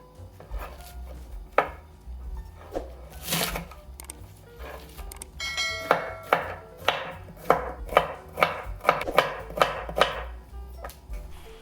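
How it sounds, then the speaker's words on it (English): Green onions and zucchini are chopped on a cutting board, the knife striking in a steady run of crisp, close taps that grow into an even rhythmic series in the second half, with no talking. "Dry the vegetables after washing them and chop them up."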